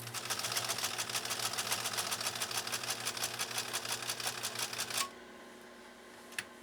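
A Pfaff 332 sewing machine stitching leather, a fast steady run of needle strokes for about five seconds before stopping abruptly, followed by quieter hum and a single click.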